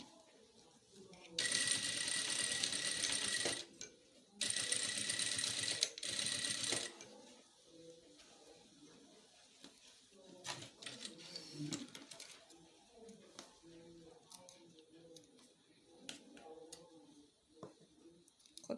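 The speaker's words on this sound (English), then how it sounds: "and then I'm going to sew." Sewing machine stitching a welt pocket in two bursts of steady, loud whirring, each a couple of seconds long with a short pause between, followed by quieter handling clicks and rustling.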